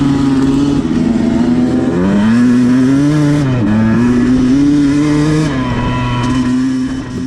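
A 2021 Beta 200RR 200cc two-stroke dirt bike engine revs loudly up close, its pitch rising and falling through several throttle blips over a steady buzzing idle, with no voices.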